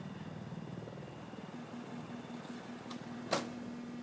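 A helicopter in the video game Battlefield 4 on the Conquest Shanghai map, its steady rotor drone heard alone throughout, with a brief sharp click near the end.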